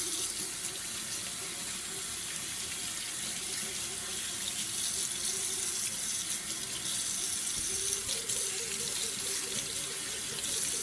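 Steady hot water from a tap pouring into a sink, a continuous rushing splash that holds at an even level throughout.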